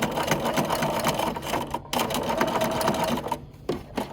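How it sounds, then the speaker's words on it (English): A sewing machine back stitches quilt binding in rapid mechanical bursts, loud and close, with two brief pauses between runs of stitching. "and then I'm going to back stitch."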